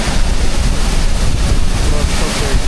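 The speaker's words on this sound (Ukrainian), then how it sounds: "це вже сама літня точка біля водоспаду. Тут на тебе летить розпилена водичка." Winter waterfall near Szklarska Poręba with spray drifting through the air, a steady loud broadband roar of falling water mixed with wind buffeting the microphone, continuous and close.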